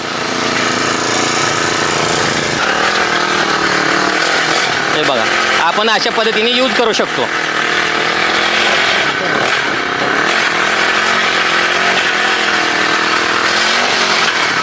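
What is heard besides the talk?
engine-powered weeding machine running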